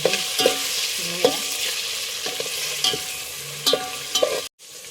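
Tomato and chili fry in oil under a continuous strong sizzle, punctuated by regular knocks and scrapes of a spoon stirring against the pan, ending in a sudden brief cut-off.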